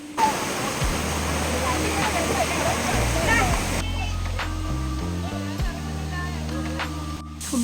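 A river flows and murmurs in a constant rushing wash that fills the first half, then thins out, with a voice and low tones over it.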